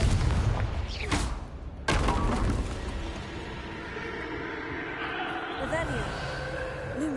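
The Confringo blasting spell explodes in Hogwarts Legacy on PS5, giving a loud, close boom with a sharp second blast, then a rumbling fiery tail that fades under a voice talking.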